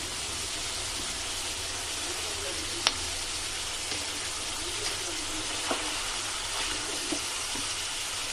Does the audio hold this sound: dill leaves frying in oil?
yes